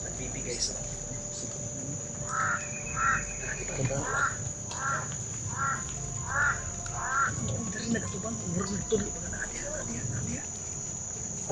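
A crow caws about seven times in a steady rhythmic series, moderately near, over a constant high-pitched insect drone and low background voices in a rural outdoor setting.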